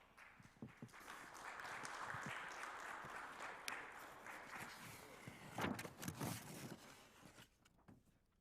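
Audience applause welcoming the president of the Korea Foundation onstage at a heritage network launch ceremony, a steady moderate wash of clapping that swells and then thins out near the end.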